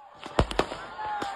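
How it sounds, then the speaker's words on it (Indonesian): Firecrackers go off to chase away wild elephants in East Lampung, Indonesia: a few sharp, close pops and bangs in quick succession over a murmuring background, with voices faintly audible. "Apakah memang tidak ada cara lain mengusirnya tanpa menggunakan petasan gitu?"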